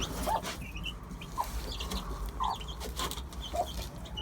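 Several chickens cluck in short, scattered calls over a rustling outdoor background, moderately close and fairly quiet.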